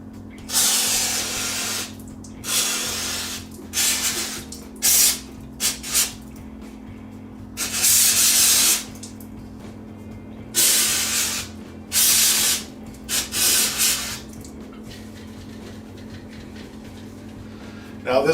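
Degreaser sprays from an aerosol can onto a leaky Vulcan 1600 Classic motorcycle gas tank over a kitchen sink, in about seven short, sharp hissing bursts separated by quiet pauses.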